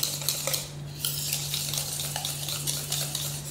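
A spoon stirs sugar into a creamy mango dessert mixture in a bowl, with continuous scraping and clinking strokes, close and steady, over a low constant hum.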